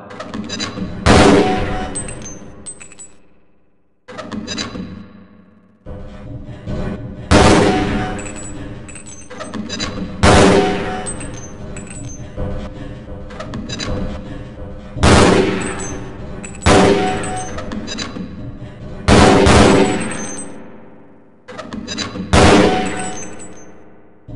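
Gunfire and grenade blasts on a target range in Half-Life Blue Shift, loud bursts of rapid shots and booming impacts repeating about every two to three seconds, each decaying into ringing metallic echoes and brief silences.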